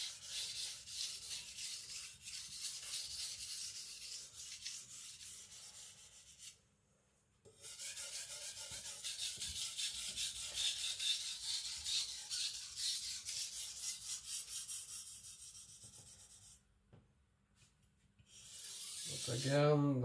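A knife is drawn in long rasping strokes across a sharpening stone that seems to hold tiny bits of sand, cutting under just the knife's weight, with two brief pauses between passes.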